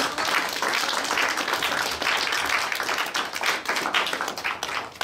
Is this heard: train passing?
no